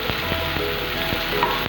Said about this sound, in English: Now I am adding the egg.